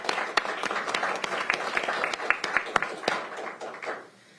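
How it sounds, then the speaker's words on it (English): Applause from a modest crowd at a Pierce County Council meeting, a few seconds of scattered hand claps fading out at the end. "Let's give them a round of applause."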